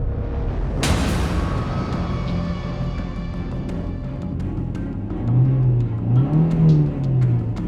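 A car engine hums and rumbles steadily as the vehicle drives in an animated story, with a low revving swell near the end.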